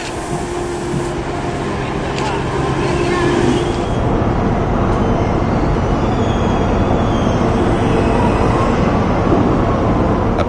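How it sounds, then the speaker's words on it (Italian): A train rumbles steadily along as it heads to board a ferry on the Baltic, a continuous loud mechanical roar with faint hum and clanks, and a voice speaks faintly underneath. "il treno si avvia verso l'imbarco"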